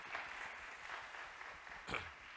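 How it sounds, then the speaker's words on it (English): A church congregation applauds children gathered at the front during a worship service, with steady, dense clapping sustained throughout and a brief louder burst near the end. "Let's give them a big round of applause."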